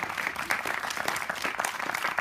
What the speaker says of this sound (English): Keep the applause coming till they actually get down here.